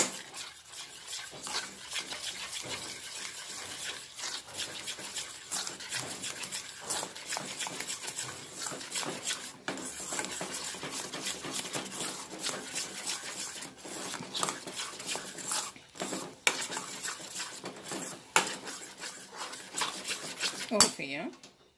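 Rice flour batter thickening in a pot as a spoon stirs it, giving a continuous scraping clatter with irregular knocks against the metal for about twenty seconds, with some faint voice in the background.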